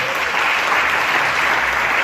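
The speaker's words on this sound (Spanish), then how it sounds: "No le dan un aplauso al Señor, yo se lo digo." A church congregation gives the Lord a round of applause during a sermon, a thick, continuous wash of clapping, loud and even from start to finish.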